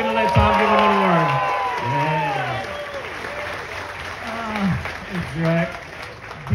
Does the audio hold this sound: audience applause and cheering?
yes